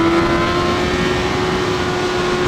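A BMW HP4 Race motorcycle engine pulls hard under acceleration, a loud, steady, close engine note that holds a sustained high tone without a break and with no voices.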